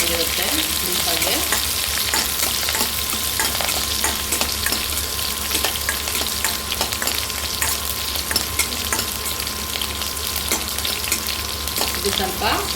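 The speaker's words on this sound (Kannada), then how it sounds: "ಕರಿಬೇವಿನ ಸೊಪ್ಪು ಮತ್ತು ಮೆಣಸಿನ್ಕಾಯನ್ನು ಸ್ವಲ್ಪ ಬಾಡಿಸ್ಕೊಳ್ಳೋಣ" Curry leaves and green chillies frying in hot oil in a pan, a dense continuous crackling sizzle with occasional stirring, close and steady throughout, no voices.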